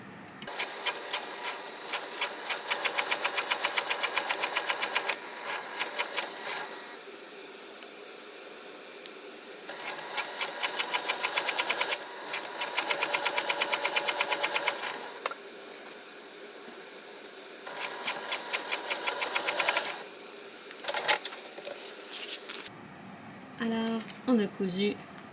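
A sewing machine with the stitch length set to 4 mm stitches a transparent vinyl boxy bag with a zipper, running in several bursts of rapid, even mechanical chatter separated by pauses, with handling noises near the end.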